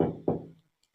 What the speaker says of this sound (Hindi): दरवाजे पर हल्की सी दस्तक हुई।